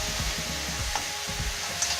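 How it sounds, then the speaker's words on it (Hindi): A ground tomato and green chili masala fries in a pan, giving a soft, steady sizzle broken by rhythmic stirring scrapes, with no talking. "तो हमें 2 मिनट तक भूनना है।"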